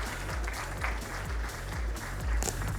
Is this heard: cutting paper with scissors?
no